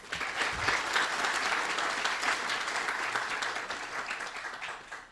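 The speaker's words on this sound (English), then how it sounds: "So give yourselves another round of applause." Audience applause at a university entrepreneurship certificate ceremony, a steady wash of many hands clapping in a large room, fairly distant and even, fading out at the end.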